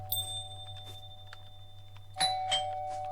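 Late at night a doorbell chimes at close range, two bright ding tones near the end over a low steady hum, with faint scattered clicks and no talk.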